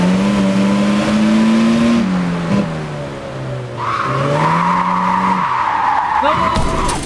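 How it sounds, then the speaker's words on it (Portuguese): Tires squeal steadily as a car slides sideways while drifting in the racing game Japanese Drift Master, the engine revving and pitch shifting under the continuous loud skid. "o carro sai de lado se acelerar demais"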